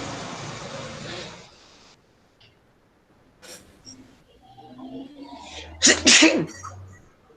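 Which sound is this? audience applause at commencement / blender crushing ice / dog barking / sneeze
sneeze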